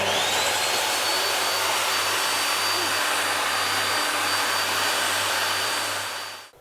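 A DeWalt DWE7485 table saw running freely, a loud, steady, even motor-and-blade whine with a constant hum that holds for over six seconds and then fades away at the end.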